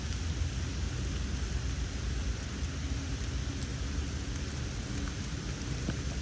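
Steady rain pours down outdoors at a cycling club, a dense, even hiss of drops on surfaces that runs unbroken and fairly loud throughout, with no voices.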